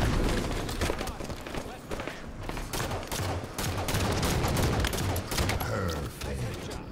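Gunfire in a Slayer-mode online shooter game, dense bursts of rapid shots and thuds overlapping continuously, loud and close, with a player's voice talking over it.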